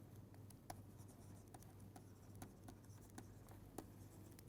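A pen writing by hand during a lecture on quotient rings, a quiet run of scratchy strokes and light taps close by over a faint low hum.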